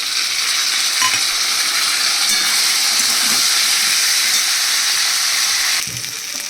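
Cumin, ginger and chili paste fry in hot oil for a potato curry, a loud, steady hiss and sizzle close up with faint stirring, dropping a little in level just before the end.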